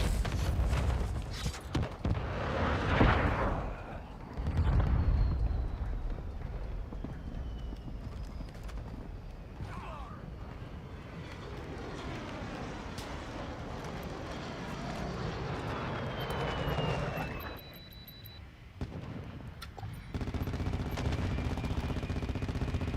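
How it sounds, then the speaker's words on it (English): Call of Duty Modern Warfare II combat with a friendly VTOL aircraft overhead: a distant droning engine with rumbling bursts of gunfire and explosions, rising and falling in loudness over a busy battlefield mix. "Friendly VTOL on station"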